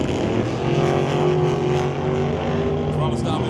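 Drag race cars launching from the start line in an ET series bracket race, a loud continuous engine roar with steady droning harmonics throughout, close and sustained.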